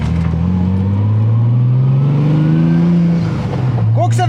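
A 1000 hp Toyota Supra with a three-litre inline-six revs hard close by, its loud, sustained roar climbing in pitch and then dropping back before a brief rattle at the end.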